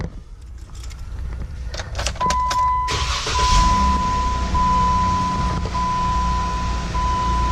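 A 2016 Jeep Wrangler starts up nearby after a few clicks and clunks, its engine catching into a steady idle that runs on with a faint whine and cabin hum.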